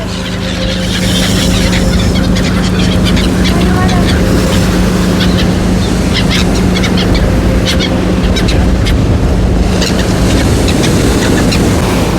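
Sea surf washes in at Langeron beach in Odesa, a loud continuous rushing roar of breaking waves, with faint voices and bird calls in the background.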